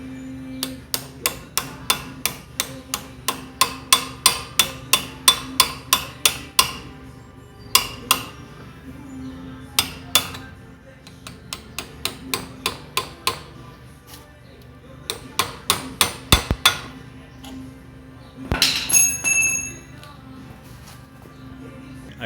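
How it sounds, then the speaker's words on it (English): A hammer taps a steel punch to drive a bolt out during a belt change on a Pro Flex 120, giving sharp, close metallic strikes in quick rhythmic bursts with short pauses between runs. "you're probably going to need some type of punch and tap that bolt out"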